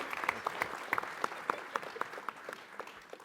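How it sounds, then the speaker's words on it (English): A small convention panel audience at New York Comic Con gives scattered, moderately quiet applause, individual claps distinct and steady for a few seconds. "Let's give him a large round of applause."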